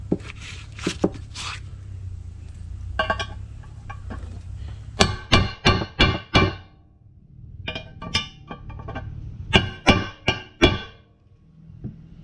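Sharp metallic hammer strikes on a stuck engine part during a modified D-19 engine rebuild, scattered single blows then rapid bursts of four to six hits, loud and close in a quiet workshop.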